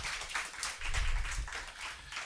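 A church congregation at a Sunday worship service claps in a brief burst of applause, soft and somewhat distant, with no voices over it.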